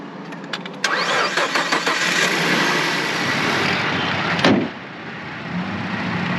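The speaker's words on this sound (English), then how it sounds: "So you have to keep starting up the truck this way until we can get a new battery for it." A truck with a weak battery, being boosted, cranks with a rapid run of loud starter clicks and whirs, then the engine catches and settles into a steady close idle.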